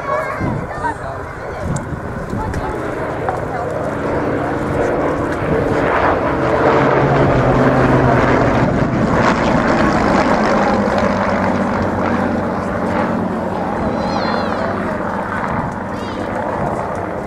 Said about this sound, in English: Coming in, left to right, Hurricane 2C. we call PZ, and a Mark 16 Spitfire TE.